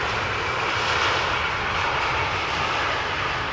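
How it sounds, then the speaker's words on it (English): An SAS Airbus A320neo, a brand-new airplane, arrives at Amsterdam Schiphol with a loud, steady broadband engine roar that stays even throughout, close and unbroken by speech. "SAS A320neo arriving from Stockholm."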